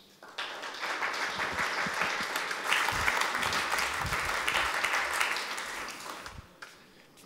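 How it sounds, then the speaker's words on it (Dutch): A studio audience gives a guest journalist a long round of applause, many hands clapping in a dense, even roar that swells, holds and then tapers off near the end. "Dames en heren, groot applaus voor Volkskrant-redacteur Frank Hendricks"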